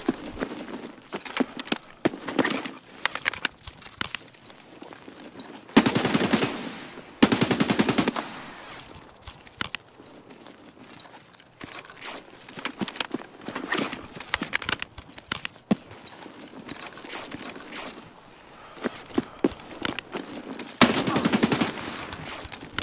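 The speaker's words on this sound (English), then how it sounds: "That was such a long firefight." A long firefight in the video game Escape From Tarkov, with bursts of automatic fire and single shots crackling at varying distances, separated by shuffling movement and quiet gaps.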